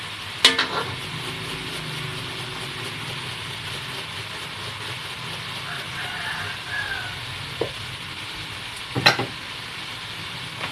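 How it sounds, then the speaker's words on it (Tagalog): Chicken with fish sauce and cracked pepper stirred in a pan for ginataang manok, giving a soft continuous sizzle with a few sharp utensil clinks against the pan, no talk. "Tapos haluin lang natin para yung patis lumasa doon sa manok"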